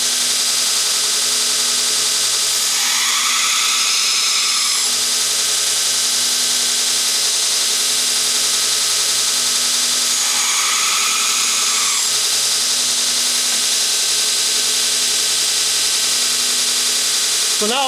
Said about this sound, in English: I've got this whole section right here to index against the platen and keep that nice and flat and keep a nice even grind